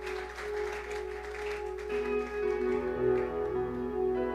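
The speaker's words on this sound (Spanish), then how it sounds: "Vamos a darle una ofrenda de palmas a Dios en esta hora" A church congregation claps together as an offering of applause to God, a steady wash of hands under sustained musical tones, with no voices.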